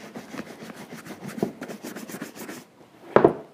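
A cloth or applicator is rubbed over leather boots to work in Cadillac leather conditioner, giving a series of close, rhythmic scrubbing strokes that pause before one short, louder rub at the end.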